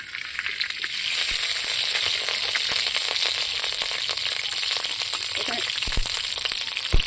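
Whole dried chilies, bay leaves, whole spices and nigella seeds tempering in hot mustard oil give a steady bright sizzle with scattered pops and crackles, continuous and close, no voices.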